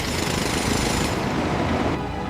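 Loud, rapid pounding of a pneumatic rock drill hammering continuously into solid rock for a tunnel, harsh and close, with no voices.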